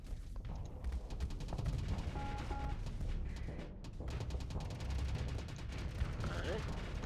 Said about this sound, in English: Fire off a Reaper to build up some high explosive, build up some hard flux.